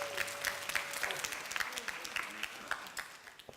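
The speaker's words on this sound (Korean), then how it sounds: "우리 프로고 수고했는데 박수 한번 부탁합니다" Audience clapping fills a church youth-group service in a steady, dense patter of many hands, moderately close, with a faint voice briefly heard beneath it.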